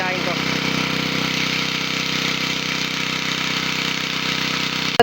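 An engine runs close by with a steady, even mid-pitched drone that holds unchanged for several seconds before a sharp knock at the very end.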